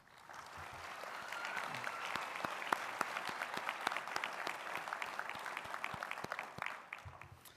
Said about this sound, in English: So graduates, please join me in a round of applause for your loved ones